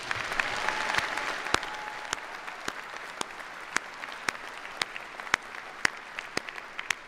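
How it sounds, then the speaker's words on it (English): Scattered claps ring out at a university commencement ceremony as a thinning round of applause fades into sparse individual hand claps in a large hall. "Let's give you another round of applause."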